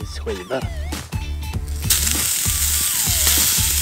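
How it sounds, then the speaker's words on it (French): Thick slices of pork sizzle in a pan, a bright frying hiss that swells partway through, under a rhythmic backing of music. "Écoutez le grésillement."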